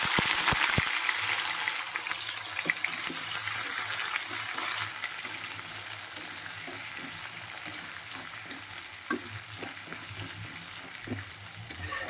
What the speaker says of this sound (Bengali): দেখো আলুটা তো ভালো করে ভাজা হয়ে গেছে।